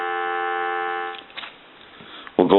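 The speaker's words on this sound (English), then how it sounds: "I'm going to give you some dial tone." A steady, buzzy dial tone on a Western Electric Princess telephone drones for about a second, then cuts out into quiet clicks before a short burst of another tone at the end.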